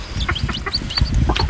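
Hens cluck and chirp repeatedly in a farmyard coop, with small bird calls scattered throughout, close and fairly loud with no talk.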